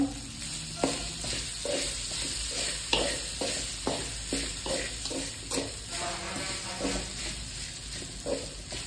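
Cooked rice being stirred and mixed in a pan with a soft sizzle underneath, repeated scraping strokes of a spoon at a steady pace, close by with no voices.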